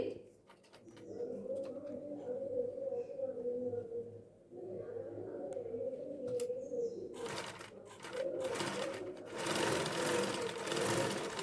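A sewing machine runs in steady, even bursts as it stitches over a lining piece at a boat or square neckline, with a brief pause midway and a sharper, louder rattle near the end.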